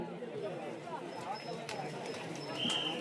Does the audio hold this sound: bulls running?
yes